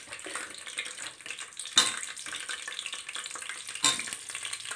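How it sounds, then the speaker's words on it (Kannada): Chopped onions sizzle steadily in hot oil in a pan for chicken pulao, with a continuous close frying hiss and two brief louder bursts as they are stirred. "ಇದು ಚೆನ್ನಾಗಿ ಕೆಂಪಿಗೆ ರೋಸ್ಟ್ ಆಗಬೇಕು ನೋಡಿ."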